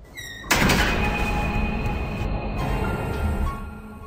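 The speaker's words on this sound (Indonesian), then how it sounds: "mendengar suara pintu terbanting dengan keras" A heavy door slams hard with a single loud thud, followed by a long, noisy resonant wash that lingers for several seconds, with no voices.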